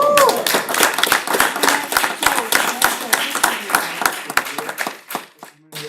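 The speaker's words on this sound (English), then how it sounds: "can I have a round of applause for Michael?" A small audience at a city council meeting gives a round of applause, with dense, close clapping that rolls steadily for several seconds before thinning out into a few last claps, while voices murmur underneath.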